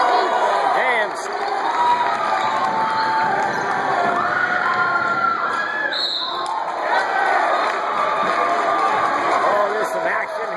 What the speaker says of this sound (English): The crowd is on fire.